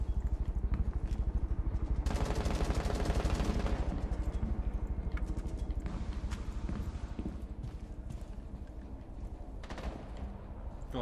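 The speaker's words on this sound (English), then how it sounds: "Under heavy fire." Sustained rapid automatic gunfire in Rainbow Six Siege, a dense rattle of rounds, loudest early and then continuing in bursts with scattered single shots.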